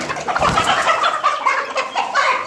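Plymouth breed chickens, heavy birds of about 3.5 to 4 kilograms, at a poultry sale in Karachi. A flock clucks and murmurs steadily at close range, with overlapping calls throughout and no speech.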